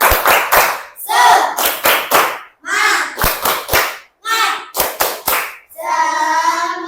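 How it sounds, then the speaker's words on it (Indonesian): A classroom of pupils performs a rhythmic spirit clap, sharp bursts of hand claps in a set pattern alternating with short bursts of children's voices chanting together, ending on a longer sustained group shout. "kita tepuk semangat dulu"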